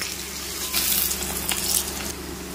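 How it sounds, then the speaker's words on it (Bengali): Chopped onions frying in oil in a wok: a steady broadband sizzle with brief louder hissing bursts as the onions are stirred, close and fairly loud, no talking. "পেঁয়াজগুলিকে খুব সুন্দরভাবে কিন্তু লাল লাল করে ভেজে নেব।"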